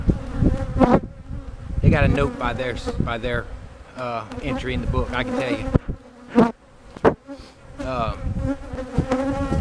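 Honeybees drone and buzz around an old, opened hive after its frames have been shaken, a steady swarming hum that runs beneath someone talking throughout.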